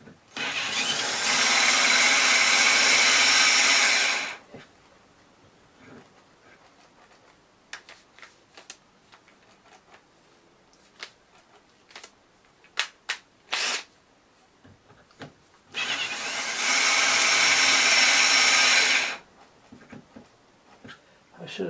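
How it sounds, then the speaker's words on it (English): A cordless drill with a low battery bores holes while a lathe is being upgraded. Two loud whirring bursts of a few seconds each are separated by a quieter stretch of clicks and handling noises. "Oh no, now the battery's running down on the drill."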